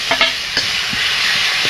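Mustard flower paste frying in a hot pan, giving a continuous bright sizzle with a few soft scraping stirs spaced through it.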